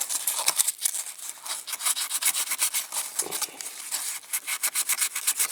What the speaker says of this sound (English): just sanding that until those are more or less gone